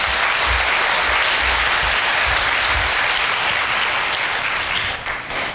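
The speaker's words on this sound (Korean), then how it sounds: "큰 박수로 맞아주시기 바랍니다" Dense, steady applause fills a university matriculation ceremony hall as a student talk show host is welcomed, a loud sustained wash of many hands that thins out near the end.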